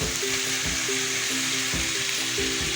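Raw potatoes and vegan sausages sizzle steadily in an oiled pan, a close, even frying hiss with a low hum running underneath throughout.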